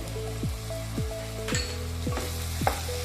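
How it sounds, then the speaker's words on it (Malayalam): Vegetables, carrots and beans among them, sauté over a high flame for a restaurant-style white kuruma, giving a steady close sizzle broken by a few scraping stirs, with no talking. "ഹൈ ഫ്ലെയിമിലിട്ടിട്ട് വഴറ്റിക്കോളൂ കേട്ടോ"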